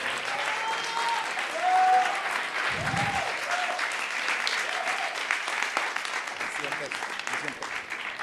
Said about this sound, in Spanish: un aplauso para este maravilloso panel